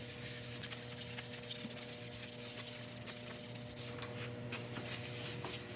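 Rubbing and wiping on a sanded resin woodturning piece with isopropyl, a soft scratchy friction that comes in uneven strokes over a steady low mechanical hum, close and fairly quiet.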